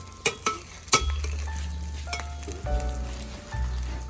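An omelette with red ant eggs fries on low heat in a pan: a steady soft sizzle, broken by a few sharp utensil clinks and scrapes near the start.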